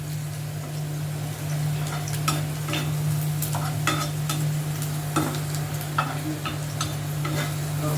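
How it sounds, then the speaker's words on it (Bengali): Garlic sizzles in a pan under a constant frying hiss while a utensil scrapes and clicks against the pan in irregular stirring strokes, over a steady low hum. "আমি এখন নাড়িয়ে নিচ্ছি।"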